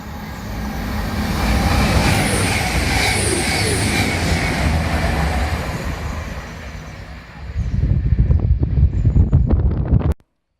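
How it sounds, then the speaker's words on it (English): A CrossCountry train rolls into Chester-le-Street station, a broad rumbling roar near the platform that swells and holds, then gives way to heavier clattering before stopping abruptly. "Yeah, comes another train cross country."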